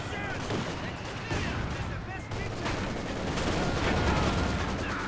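Dense gunfire and explosions in a Company of Heroes 2 2v2 battle, overlapping bursts and rattling shots forming a loud chaotic wall of combat noise, with a voice talking over it.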